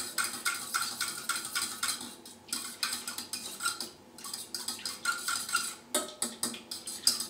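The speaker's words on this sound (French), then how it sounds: "on va délayer la levure avec de l'eau tiède. Il faut de l'eau tiède, donc dans un récipient. Bien la mélanger." Yeast being stirred into lukewarm water in a bowl: rapid, steady clinking strokes of a utensil against the container, pausing briefly before resuming, close and fairly quiet.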